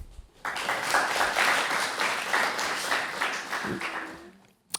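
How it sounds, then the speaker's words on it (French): A crowd applauds a newly introduced jury member at a French public-speaking contest, the clapping starting abruptly, holding steady and full, then fading away near the end. "Sophie Klopp, on peut l'applaudir"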